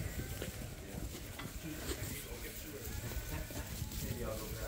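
Ewes bleat among a group of sheep on a farm, with repeated calls over a busy, noisy barn background while a person talks.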